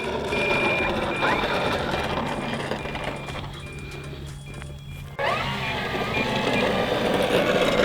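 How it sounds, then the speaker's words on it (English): Steady high-pitched electronic beeping repeats in a fast, even rhythm over a constant background hum, pausing briefly before resuming. "I'm not really sure why that alarm was going off"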